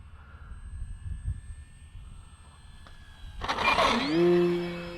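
An Arrows Trekker RC airplane flies a touch and go, its electric motor whining faintly and steadily at first, then swelling loud and close around the third second before settling into a smooth, rising drone as it climbs away.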